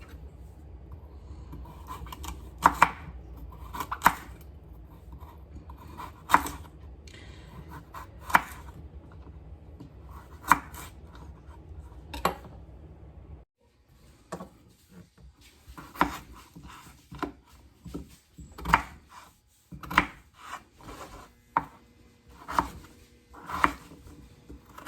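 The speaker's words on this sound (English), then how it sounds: "we're going to cut these carrots up on a diagonal 1/2 inch thick pieces" Steady knife strokes chop carrots into diagonal half-inch pieces on a cutting board, a run of crisp, evenly spaced thuds close by that pauses briefly, then resumes with a quicker, irregular rhythm.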